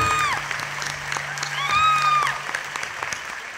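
An audience at an acoustic live rock concert applauds and cheers to welcome a guitarist, with steady clapping under whistles and whoops, some rising and falling whistles cutting through.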